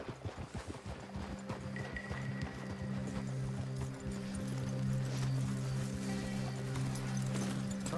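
Horse hooves clip-clopping on the ground in Red Dead Redemption 2 as riders dismount, with a whinny among steady, close footfalls and faint background music throughout.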